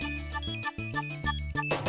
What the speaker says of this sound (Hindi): सुरेश मुझे क्यों फोन कर रहा है?